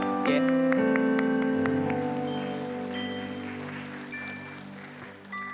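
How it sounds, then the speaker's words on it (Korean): A crowd claps steadily and warmly, the applause starting abruptly and sustained for several seconds before tapering off, with a faint ringing tone underneath. "박수로 맞이하겠습니다."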